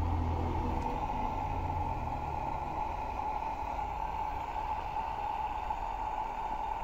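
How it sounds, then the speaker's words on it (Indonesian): Water boiling inside an electric kettle-style thermos water heater gives a continuous deep rumble of bubbles, steady and close, with a faint hiss on top and no voices. "Dia gelembung-gelembung air itu bakalan kedengeran suaranya kayak"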